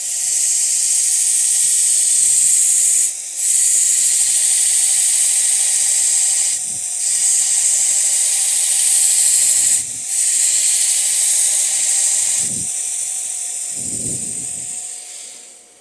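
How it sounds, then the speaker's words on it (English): A belt grinder grinds a dagger blade on a fresh belt, giving a loud, continuous abrasive hiss that briefly drops out in three or four short gaps as the blade is lifted from the belt. "as you touch down on a brand new belt, it's going to throw off a whole lot of grit"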